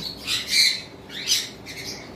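Blue conure parrots, running birds of a violet cross, give several harsh squawks in short bursts, close and fairly loud over a low background hum.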